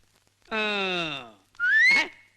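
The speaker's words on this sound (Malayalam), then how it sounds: "പെൺകുട്ടികൾ ഇങ്ങനെ ചൂളം കുത്താൻ പാടില്ല പാടില്ല." A girl whistles two separate notes, the first a steady falling tone lasting about a second and the second a short rising whistle, close and clear against near silence.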